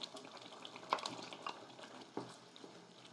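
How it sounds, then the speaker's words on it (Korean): Abalone meat stir-fries in a pan with kelp broth cooking down, giving quiet, soft sizzling with a few scattered scrapes and taps from stirring. "같이 또 물이 다 쫄 때까지 볶습니다."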